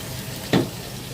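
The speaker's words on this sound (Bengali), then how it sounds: "এখন পেঁয়াজটা দিয়ে একটু ব্রাউন করে ভাজবো।" Onions go into hot oil already holding cinnamon, cardamom, black cardamom, bay leaves and cloves to fry until brown, with a steady sizzling hiss and one short, louder burst.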